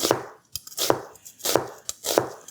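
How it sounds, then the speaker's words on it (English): An onion being sliced into half moons with a knife on a cutting board: four crisp, evenly spaced chops, close and clear, with no talking. "Slice your onion into half moons."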